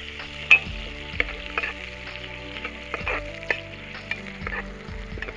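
Onions frying in oil for a pressure-cooker mutton biryani, a steady close sizzle and crackle. Occasional sharp clicks and scrapes from stirring break in throughout.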